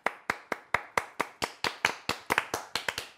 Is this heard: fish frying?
no